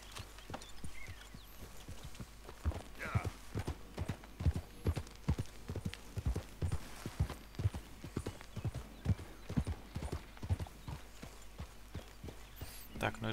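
Horse hooves clip-clop in a steady walking rhythm through a video game hunting scene, close and fairly loud, with a faint background hum and a brief whinny.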